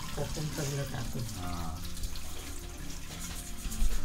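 Water runs from a tap over fish being washed and cleaned in a home kitchen, a continuous splashing rush at low level with brief surges near the end. Voices talk faintly in the background.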